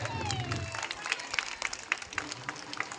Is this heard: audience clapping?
yes